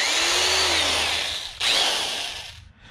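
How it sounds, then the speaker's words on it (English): A Black & Decker 75th anniversary electric drill whines as it bores into a thin, hard stainless steel steam pan, a high grinding screech that pauses briefly before resuming and then fades out. "I have to go with my Black & Decker 75th anniversary electric drill."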